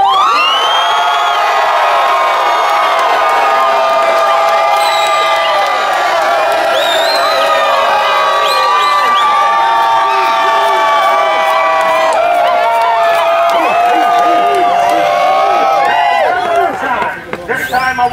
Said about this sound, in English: If you're with me, one big scream, everybody, make some noise!